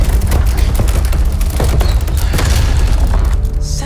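Gunfire in the video game Resident Evil 4 Remake, heard as loud, booming shots and heavy blasts that pile up into a continuous roar at close range.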